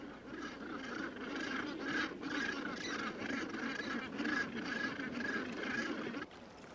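Gannets calling at a rookery, a raucous chorus of harsh, repeated honking cries rising and falling in overlapping bursts at moderate distance.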